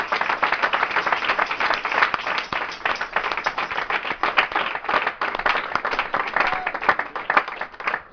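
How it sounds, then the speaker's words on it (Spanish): A church congregation claps together in a dense, lively burst of applause, many hands close and fairly loud, sustained without letting up. "vamos a recibir, hermanos, dándole un aplauso al Señor"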